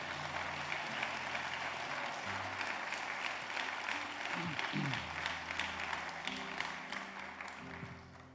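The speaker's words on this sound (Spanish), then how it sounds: "Alguien da un aplauso fuerte al Señor." Strong applause from a church congregation during a Spanish-language sermon, steady dense clapping throughout with a low sustained tone and faint voices underneath.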